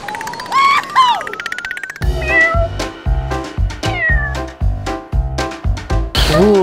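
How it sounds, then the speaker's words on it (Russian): A cat meows several times: a soft, high call first, then a run of short, loud, evenly spaced meows close to the microphone. "Вон она, моя кошечка."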